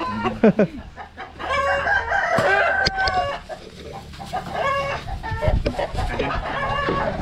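Dekalb Brown hens cluck busily around a farm pen, with repeated calls and a rooster-like crowing phrase rising over a low background murmur of activity.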